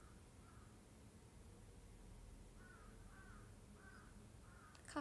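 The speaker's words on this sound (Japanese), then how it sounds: "カラスが叫び始めてる。" Crows cawing outdoors in Hiroshima, a few short calls spaced out at moderate distance, faint against a quiet background hiss.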